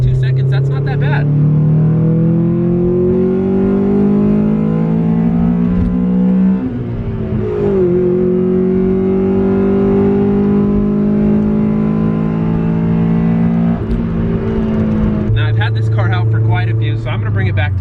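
A 19-year-old Honda Civic Si EM1 accelerating hard from 0 to 60, its engine note climbing loudly through the gears with brief dips at each shift, heard close up from inside the car.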